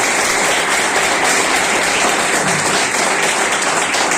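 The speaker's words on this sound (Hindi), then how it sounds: "ऐसे गुरुओं के लिए एक बार जो तालियां आपको" Audience applause at a Teachers' Day event, steady and dense throughout, loud and close with no talk over it.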